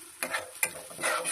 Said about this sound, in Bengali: এখানে মশলাটা ভাজা ভাজা হচ্ছে